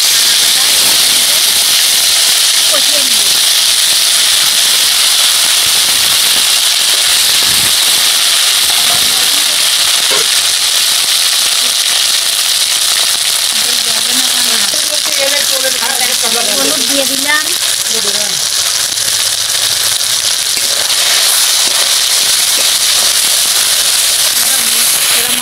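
Ground dried chili paste and cumin hitting hot oil for a country duck curry, a loud, constant hissing sizzle that fills the whole clip, with faint crackles and a few brief background noises.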